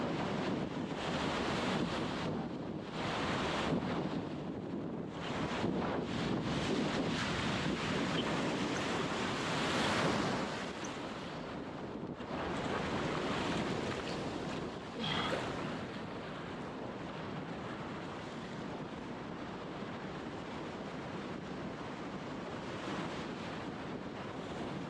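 Strong wind and breaking waves fill a desert windsurfing spot. Broadband roaring surf mixes with gusty wind buffeting the microphone and swells in loudness now and then. No one speaks.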